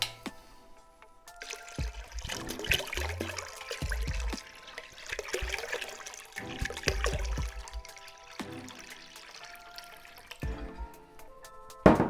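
Water poured into a mead mixture in a bucket, a steady trickling and splashing pour that comes in several bursts with pauses between, close and fairly loud, with occasional clinks.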